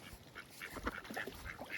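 Ducks quack in scattered, fairly faint calls along a riverbank on a freezing day of bass fishing, with the calls spread across a couple of seconds and no speech over them.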